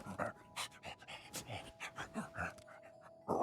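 Dog panting in the video game Zenless Zone Zero, quick rhythmic breathy huffs close up, repeating steadily with a faint tonal game hum underneath.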